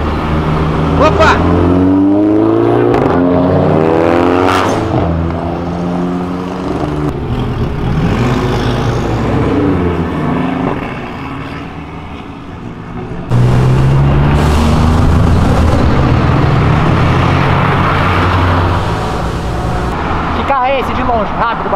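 A Honda Civic Si revs hard and sweeps past, its engine roaring loud and close with rising and falling pitch, while people talk over it throughout.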